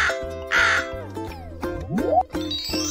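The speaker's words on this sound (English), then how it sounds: "Here's a crow." A crow caws several times in a row, loud and close, harsh repeated calls with a rising, bouncy tone mixed in, set against a bright musical backing.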